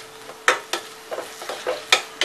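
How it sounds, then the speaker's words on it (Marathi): Chopped onion and tomato sautéing in a pan for a masala gravy, with about six sharp spatula strokes scraping over a soft, steady sizzle, close up and with no voices. "मी कांदा टाकते, टोमॅटो व्यवस्थित परतून व्यवस्थित शिजवून घेऊया"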